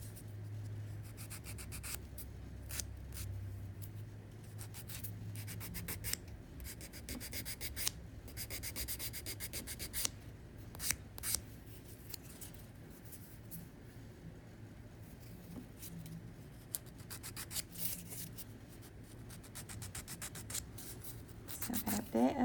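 Dried flower dip powder nails are filed with short, uneven rasping strokes, quiet and close, coming in bursts with brief pauses between.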